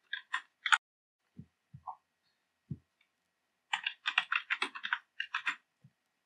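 Login credentials typed on a computer keyboard, a few scattered key clicks and soft thuds, then a quick close burst of rapid keystrokes, quiet with no talk.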